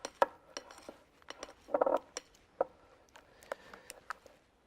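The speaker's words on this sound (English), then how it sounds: "stirring that together" A spoon stirring yogurt and sour cream together in a bowl, giving a string of close, light clinks and scrapes against the dish in an irregular rhythm.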